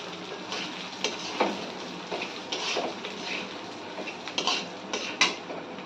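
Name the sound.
mixing soaked rice in a bowl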